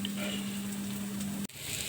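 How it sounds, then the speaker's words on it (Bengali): Brief, steady sizzle of ash gourd peels frying in a pan, with a low hum that cuts off abruptly near the end. "আমার পছন্দের এই যে চাল কুমড়োর খোসা ভাজা করছি"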